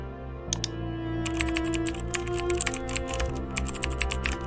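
Keys clatter on a computer keyboard in quick, uneven bursts of close, crisp clicks, with a short pause near the start before the typing resumes and carries on to the end.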